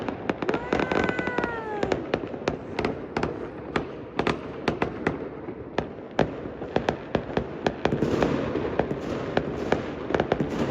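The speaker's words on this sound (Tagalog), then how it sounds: "Daming paputok pala dito, nakakatuwa." New Year's Eve fireworks and firecrackers in Italy crackle and pop continuously. Dense rapid bangs, some near and loud, layer over a distant rumbling backdrop, with a whistling rocket early on.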